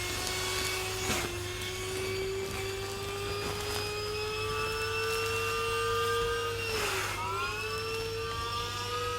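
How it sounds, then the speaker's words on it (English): A small motor whirs steadily at a sustained high pitch, its tone dipping slightly a couple of times as a compact vacuum sealer pumps. "And then this is the vacuum sealer"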